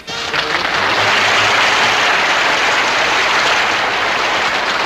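Military audience of GIs applauding loudly at a Bob Hope show, a dense, sustained wash of clapping that swells at once and holds steady throughout.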